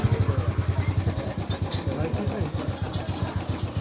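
A motorcycle engine idles close by in a village, giving an even, rapid low thumping pulse that steadies and softens slightly as it goes on, with a few faint background noises.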